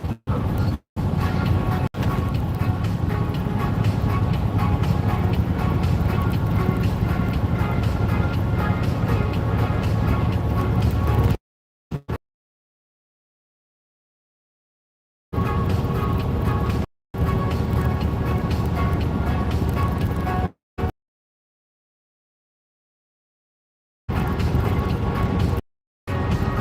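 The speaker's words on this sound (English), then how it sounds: "I now cut out the bent up fuel line and re-flare it with this flare tool" Fuel line being cut and re-flared with a flare tool, dense mechanical grinding and scraping bursts separated by abrupt silent gaps, fairly loud and close.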